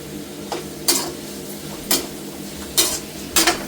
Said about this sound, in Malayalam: എന്നിട്ട് നന്നായിട്ട് വഴറ്റുക